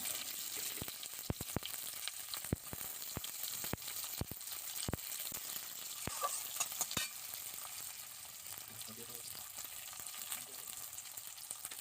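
Sugar is stirred into hot oil in a pan, with a steady sizzle and a run of sharp utensil taps and scrapes, close-up and quiet. The tapping eases off partway through and no one speaks.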